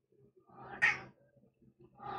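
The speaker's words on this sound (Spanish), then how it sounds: "Oh, un gato. Ya hace miau." A cat gives a short, fairly faint meow, and a second call begins right at the end, over a quiet background.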